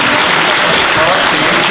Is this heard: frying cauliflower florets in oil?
no